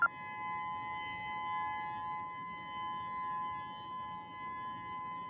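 Civil defense siren sounding during a test in Honolulu, Oahu, Hawaii: a steady sustained wail held at an even pitch throughout, moderately distant, over faint background noise.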